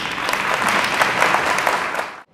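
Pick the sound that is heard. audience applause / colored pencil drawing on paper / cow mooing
audience applause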